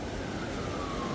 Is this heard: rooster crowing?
no